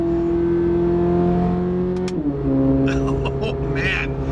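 A Chevrolet Corvette C8 Z06 engine revs and holds a steady drone, then drops sharply in pitch as a paddle shift changes gear, followed by quick throttle blips and crackles.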